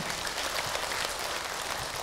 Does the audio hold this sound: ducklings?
no